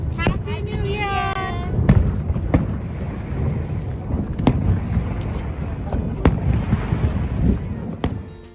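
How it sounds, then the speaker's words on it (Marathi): New Year's Eve fireworks over Niagara Falls, on the Canada–US border, at night: an opening whistle, then several sharp, separated bangs and crackles against steady wind and crowd noise. "या ठिकाणी 31 डिसेंबरच्या रात्री कॅनडा आणि अमेरिका या दोन्ही देशांचा फटाक्यांचा शो पाहायला मिळतो"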